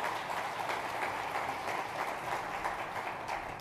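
A church congregation applauds in praise after a sermon passage, a steady dense wash of clapping filling the room at moderate level throughout, with no voices standing out.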